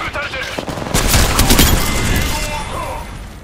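Rapid bursts of automatic gunfire from the Apex Legends video game crack out in a dense fusillade, joined by impacts and effects, while in-game voice lines speak over the action.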